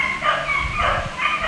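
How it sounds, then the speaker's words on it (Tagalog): Several dogs bark and yip in short overlapping bursts, fairly close and loud, with a whimpering edge between barks. "Dinig yung mga aso. Kasi pagka may trend dito dumadaan, talaga napaka-ingay ng aso."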